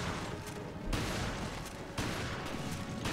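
Continuous dense gunfire in Resident Evil: Revelations, a steady wall of rapid shots with abrupt shifts in intensity and no talking over it.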